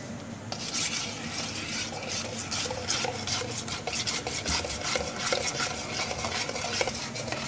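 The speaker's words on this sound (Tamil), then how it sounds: "இப்போ நீ அதை பீட் பண்ணுறியா?" Mango and Oreo ice cream mixture being beaten in a bowl, a steady, fast scraping and swishing rhythm that runs close and unbroken from start to end with no voices.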